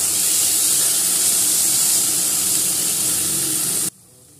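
Spices and salt stir-frying in a pan with a steady, loud sizzle and hiss that runs unbroken for about four seconds, then cuts off abruptly; no one talks.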